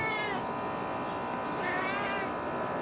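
A cat meows twice close by, two clear drawn-out calls about a second apart over a quiet room background, in a workshop where an old Sears LT1036 lawn tractor is being restored.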